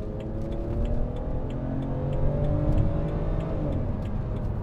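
A 2011 BMW Z4 sDrive23i roadster's engine runs steadily with a low, continuous drone and a slight rise toward the middle, heard up close from inside the car with no talking.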